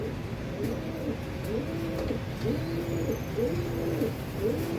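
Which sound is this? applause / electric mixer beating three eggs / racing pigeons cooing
racing pigeons cooing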